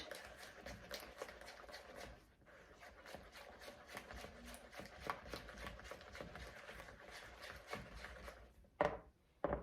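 Hot liquid is whisked into an egg and cornstarch mixture for a lemon mousse entremet, giving fast, steady, rhythmic strokes against the bowl that stay faint and close for the whole stretch and end with a couple of louder knocks.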